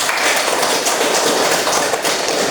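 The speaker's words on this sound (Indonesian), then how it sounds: "tepuk tangan kita semua." A classroom of students claps hands together, dense continuous applause, loud and close, with no talking over it.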